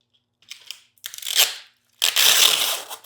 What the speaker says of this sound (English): Peel that open.